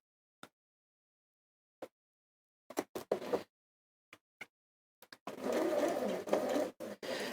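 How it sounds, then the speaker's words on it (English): A sewing machine stitching a quarter-inch seam: a few isolated clicks and short mechanical bursts, then a sustained rapid whirring run of stitches near the end. "I'm now going to sew my 1/4 inch seam"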